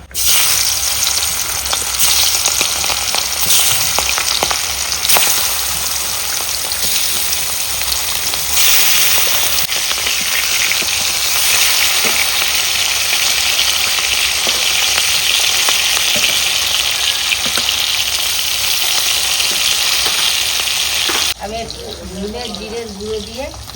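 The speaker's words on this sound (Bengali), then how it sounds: "কড়াই গরম হয়ে গেছে আমি ইলিশ মাছ ভেজে নেবো দিয়ে দিলাম তেল তেল গরম হয়ে গেছে আমি মাছ দিয়ে দিলাম" Hilsa fish frying in hot oil in a wok, a loud, steady sizzle that fills the scene, with faint speech near the end.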